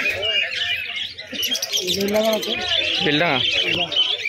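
Pigeons at Birnagar pigeon market coo and chirp close by in a busy market, with people talking over and around the birds.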